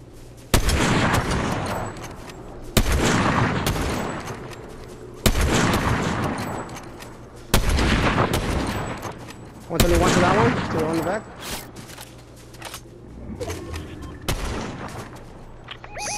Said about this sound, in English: Still sniper shots from our north.